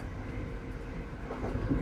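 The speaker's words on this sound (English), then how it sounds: "The vintage train moves through the night at a pace that feels deliberate." A vintage train travelling through the night: a low, continuous rumbling roll of wheels and carriage, steady and muffled, with no distinct clacks standing out.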